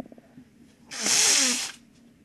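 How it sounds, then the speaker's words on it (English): A person blowing their nose: one forceful, breathy nasal blast lasting about a second, close and loud, preceded and followed by quiet room sound. "Gotta blow my nose."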